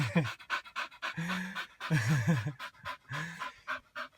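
An English Bull Terrier pants heavily and rapidly after a short sprint, close by, in quick rhythmic breaths with a few brief pauses.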